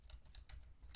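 Quick, light keystrokes on a computer keyboard entering a command, a handful of soft close clicks within a second, quiet and alone.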